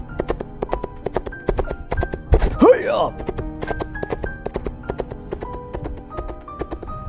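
Horse hooves clip-clop in a quick, regular rhythm as a sound effect for a messenger riding off on horseback, running under a narrator's voice that calls out a shout partway through.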